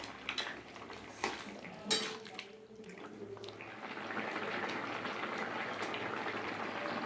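Fried lentil dumplings (bori) being stirred with sugar in a pan for dudh shukto: a few clinks of a spoon against the pan, then a soft, continuous simmering bubble, fairly quiet throughout.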